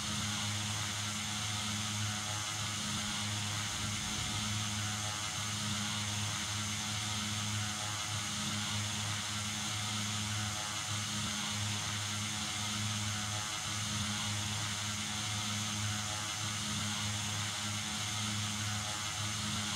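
Simulated general aviation propeller aircraft engine in X-Plane 11, a PC12 or DA62, holds a constant loud droning hum with steady tonal bands and no talk.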